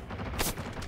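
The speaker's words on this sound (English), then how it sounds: "He's still shooting at me." Enemy gunfire in the survival shooter Generation Zero: one dull, muffled burst of a shot over a dense, noisy game background, heard at middle distance, with no voices.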